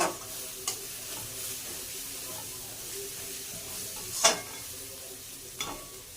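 Food sautéing in oil in a home kitchen pan gives a faint, steady low sizzle with a few sharp scrape or tap accents from stirring.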